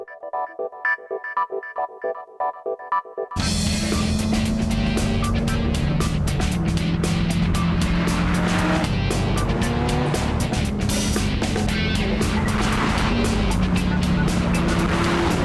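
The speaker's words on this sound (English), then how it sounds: "On the move in an F40 Ferrari." A 16-year-old Ferrari F40 with a twin-turbo 3-litre V8 on the move, its engine roaring loud and steady with gear changes and turbo whoosh, preceded by a short burst of music.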